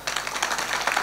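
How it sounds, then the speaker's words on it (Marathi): Audience clapping at a Marathi devotional discourse about Pandharpur: a dense, steady patter of many hands that fills the short moment at an even level with no voice over it. "माझं वाक्य ऐकून टाळ्या ऐकाल"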